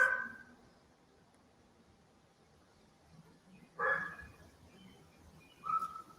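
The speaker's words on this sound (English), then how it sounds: "Who's got a dog?" A dog barks a few times from somewhere off a porch, faint and distant, with short sharp yaps spaced across an otherwise quiet stretch and no talking.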